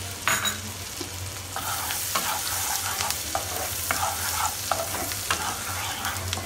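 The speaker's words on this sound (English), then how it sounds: "Now add chopped garlic, that means chopped lasun" Chopped garlic fries in melted butter in a pan, a continuous close sizzle with scattered stirring scrapes and clicks over a low steady hum.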